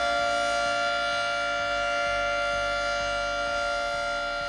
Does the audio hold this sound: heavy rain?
no